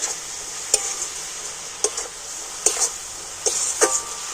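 A spoon stirs crushed cardamom into a sticky, sweet filling in a pan, giving a few sharp scrapes and knocks spaced about a second apart over a soft, steady hiss.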